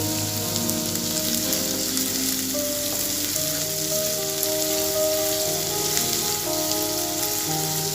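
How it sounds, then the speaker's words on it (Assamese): Ginger, garlic and green chillies fry in hot oil for a mixed dal, giving a steady, close, dense sizzle with soft crackle that carries on unbroken and alone. "এইখিনি 1 মিনিটমান সময় ভাজি ল'ব লাগিব যাতে আদা নহৰু কেঁচা গোন্ধটো নাইকিয়া হৈ যায়।"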